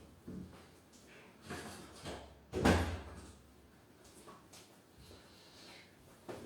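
A loose door bangs once, sharp and loud, against an otherwise quiet room with faint background rustling and a softer knock at the end.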